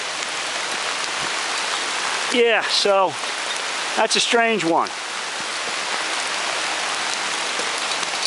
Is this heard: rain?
yes